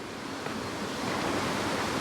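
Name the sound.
waterfall flowing near Loch Chon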